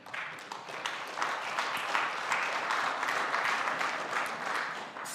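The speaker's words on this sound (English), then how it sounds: "It's funny to get applause for somebody else's speech" An audience applauds steadily at close range, a dense wash of many hands clapping that swells slightly and holds for several seconds with no voices on top.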